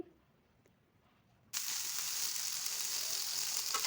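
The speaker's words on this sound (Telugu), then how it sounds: "స్టవ్ ఆన్ చేసి ప్యాన్ పెట్టుకొని దోశ వేసుకోవాలి" A healthy high-protein dosa hits a hot pan after a quiet moment, bursting into a loud, steady sizzle that carries on close by.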